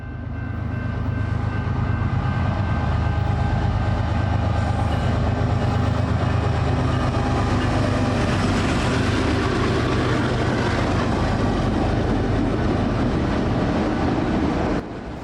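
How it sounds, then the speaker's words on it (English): A BNSF intermodal freight train with a CPKC-painted lead locomotive and a wide-cab GP60 second unit rolls past trackside, a loud, sustained rumble with rail clatter lasting the whole stretch before easing at the end. "I was trackside with the goal of seeing a BNSF Intermodal with a CPKC paint leader."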